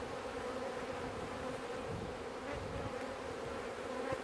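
Honey bees buzzing in a crowded hive box during a colony split, a dense, steady, low drone up close, quiet and continuous with no talking.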